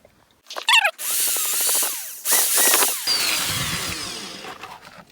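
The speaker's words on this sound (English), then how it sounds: "they do need a bit more drilling" A power drill bores into the plastic base of a die-cast Corgi Juniors Ford Gran Torino toy car, close and loud, in two whining bursts with a brief pause between, the second tapering off.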